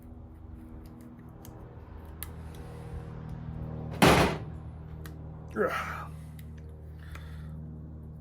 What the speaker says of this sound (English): You're gonna cut this little, it's like silicone or rubber piece off the backside of it.